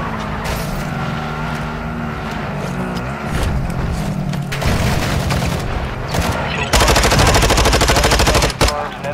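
Rapid automatic gunfire in Call of Duty DMZ rattles in bursts over a running vehicle engine, building to a loud, sustained stream of shots near the end, with a few brief pauses between volleys.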